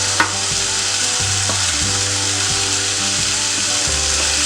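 Beaten egg sizzles and fries steadily in a hot pan while kothu chapathi is being made, a continuous close crackle with a few soft scraping and knocking sounds from the utensil and no talk.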